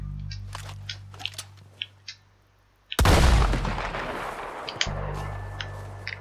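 A single loud gunshot in Red Dead Redemption II, fired at a lock, breaks a quiet stretch of soft game ambience with a sharp crack and a roaring tail that fades over about two seconds. No one talks.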